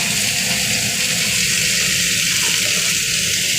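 Potato and papaya frying in hot oil tempered with black cumin, a loud, steady sizzle that holds without a break.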